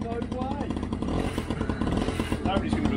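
A small Honda moped engine runs right after a kick start, a buzzy, uneven two-stroke-style putter close by, with talking over it.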